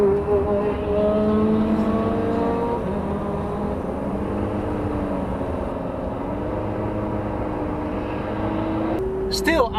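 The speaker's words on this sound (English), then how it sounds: "So we're using more energy than the 2-liter engine can provide." Fisker Karma's 2-liter range-extender engine drones under acceleration, a rising and falling tonal hum with shifting pitch beneath road noise, while people talk inside the car throughout.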